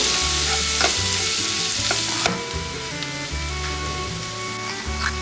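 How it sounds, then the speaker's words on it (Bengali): Vegetables for pav bhaji fry in a pan as chili powder is stirred in, a close sizzle broken by rhythmic scraping strokes of a spatula against the pan, with no talking. "চিলি পাউডার, ভাজা সবজির সাথে মিশিয়ে দেব"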